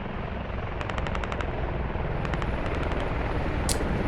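Helicopter rotor wash droning steadily throughout a military shooter game, with short rapid bursts of machine-gun fire from a remote weapon station on a Sprut vehicle crackling over it in two volleys, then a sharp single impact near the end.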